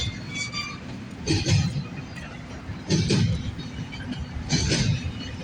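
A CN freight train with two locomotives rolls past outdoors, its steady rumble broken by three bursts of clattering wheel noise at regular intervals, with no talking.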